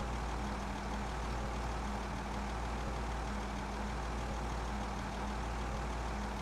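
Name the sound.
car engine noise in video game Project Zomboid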